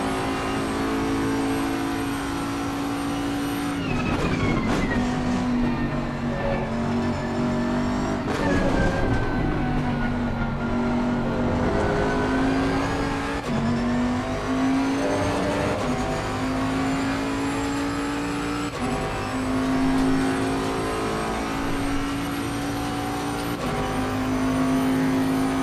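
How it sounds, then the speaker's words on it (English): A Bentley GT3 race car in Assetto Corsa Competizione, racing a multiplayer event at Suzuka, drones loudly and steadily, its engine pitch climbing and dropping through repeated gear shifts every few seconds. "Love this Bentley though. Great stable car, great motor,"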